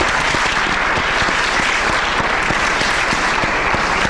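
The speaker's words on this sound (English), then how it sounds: "Let's give him a round of applause." Loud, steady audience applause at an evening lecture before Muslim students, a dense wash of many hands clapping evenly without a break.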